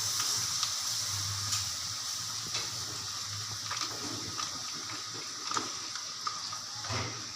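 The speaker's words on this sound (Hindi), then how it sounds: "अब हम इसके अंदर मिल्क ऐड कर रहे हैं" Milk poured into flour roasting in a pan for white sauce, a soft sizzle and bubbling hiss with scattered small clicks and stirring taps, moderately quiet and close, no voices.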